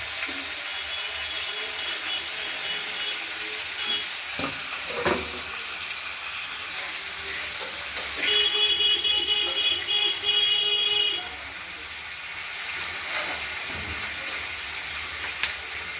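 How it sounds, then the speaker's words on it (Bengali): Mixed vegetables (red potato, pumpkin, flat beans, cauliflower, drumstick, stem greens, eggplant) cooking in a kadai, a continuous soft hiss and sizzle with a brief louder steam burst midway and occasional faint clinks. "আমরা কড়াইতে পুরোপুরি তরকারিগুলো দিয়ে দিলাম।"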